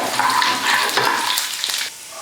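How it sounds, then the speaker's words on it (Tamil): Steady crackling sizzle of lentils frying in hot oil, dense and close, with a few brief stirring scrapes. "பருப்பு நல்லா பொன்னுவரெல்லாம் வறுந்து வரட்டும்."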